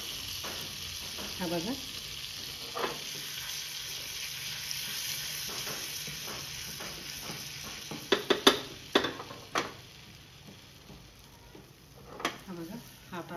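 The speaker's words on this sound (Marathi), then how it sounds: "भाजीसाठी आपण तडका तयार करतोय. या तडक्यामध्ये आपल्याला लाल मिरची पावडर टाकायची." A tadka for pav bhaji sizzles with red chili powder, a steady frying hiss with sharper crackles and a few clinks toward the end, while a person talks over it.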